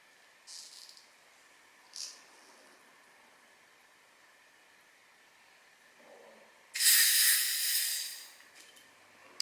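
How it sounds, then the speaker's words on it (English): Jansz Premium Cuvée 2010 sparkling wine is eased open. A couple of faint taps come first, then a loud, close hiss of escaping gas that lasts about two seconds and fades. "So let's pop the cork. Well, not pop it, but"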